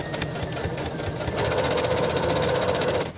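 A sewing machine runs close up while stitching over a zipper on a wallet with card slots, a continuous mechanical whir that steadies and grows slightly louder partway through before stopping near the end.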